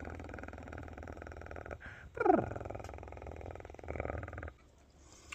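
A Bengal cat purrs softly and closely, a faint low rumbling with a short louder snort-like burst midway, alongside a person's imitation purring.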